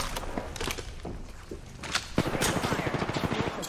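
Video game gunfire, steady rapid bursts of close, loud shots that grow denser toward the end, with faint talking underneath.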